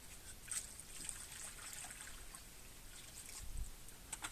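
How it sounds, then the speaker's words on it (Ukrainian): Water trickling and soaking into garden soil around young cherry trees, a faint, steady wet dribble with low rustling, close and quiet, with no talk over it. "Ну, доливай воду"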